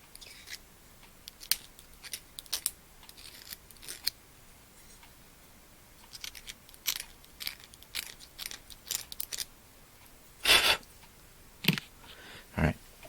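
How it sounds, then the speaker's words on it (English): A blade scraping paint out of the wheel wells of a 1/64 scale diecast car, 2019 Kurt Busch #1 Monster Energy, in short irregular scratchy strokes, close and quiet, with no talking. "Some of the wheel wells have some paint in there, so I kind of scrape it out with the blade."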